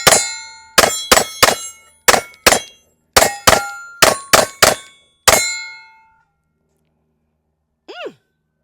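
An M&P 5.7 pistol fires a rapid string of about eleven sharp, loud shots in uneven pairs and singles, each ringing briefly, then stops, with a short faint vocal sound near the end.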